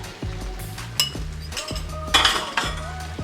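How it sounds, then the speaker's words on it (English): A spoon scrapes and clinks around a pan of paneer masala being stirred, with rhythmic metallic knocks and faint sizzling, close up with no voices. "And give that a good old stir."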